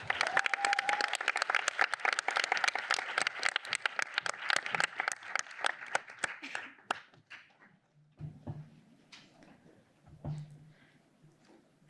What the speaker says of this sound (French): veuillez applaudir Pauline Alla.